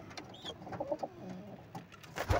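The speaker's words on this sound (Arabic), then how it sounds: "ادي الحمام شغال اهوت، حمام زواجل بسم الله ما شاء الله" Homing pigeons coo in soft repeated throaty calls, several overlapping birds at close range, with light rustling and a louder flutter near the end.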